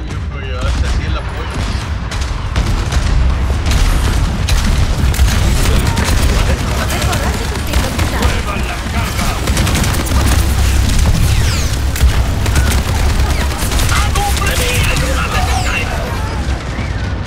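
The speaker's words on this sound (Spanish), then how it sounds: "Está disparando a lo máximo." Sustained heavy gunfire in an Overwatch 2 match, loud relentless bursts and booms piling up across the whole stretch, with voices talking underneath the shooting.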